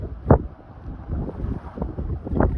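Strong gusts buffet the microphone on a boat, a close, rough, low roar that swells and fades in waves, with a couple of sharper blasts standing out.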